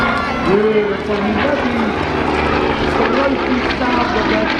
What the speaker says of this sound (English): It's an MP14 radial engine for 360 horsepower.